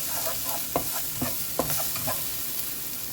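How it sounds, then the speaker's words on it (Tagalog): Garlic frying in leftover beef oil in a pan, a continuous close sizzle with a rhythmic series of scraping stir strokes, no talk. "ilagay po natin ang bawang. Gamitin po natin yung mantika na ginamit natin sa beef"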